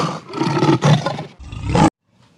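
A tiger gives a loud, close, growling roar in several surging bursts, then cuts off abruptly into near silence.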